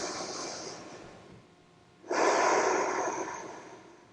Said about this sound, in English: taking a few nice deep breaths